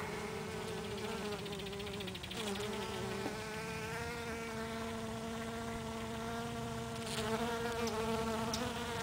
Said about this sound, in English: It's a lot of bees for one flower.